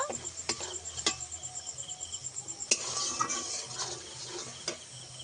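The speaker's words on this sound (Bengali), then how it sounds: "আর সমস্ত মশলা আমি একসঙ্গে ভালো করে একটু কষিয়ে নেব।" Spices with coriander powder are sautéed in a pan for a paneer and rice dish, with a quiet, steady sizzle, soft scraping strokes from a spoon and a few sharp clinks against the pan.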